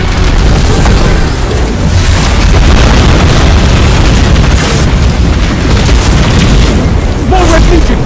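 Booming missile explosions rumble through a Destiny 2 battle, loud and continuous with dense low-end blasts, while shouted game voices carry over the chaos.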